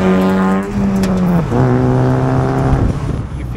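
A Honda Fit fitted with a K24 engine accelerates, heard from inside as a loud, steady engine drone whose pitch climbs through the gears with a brief dip at a shift.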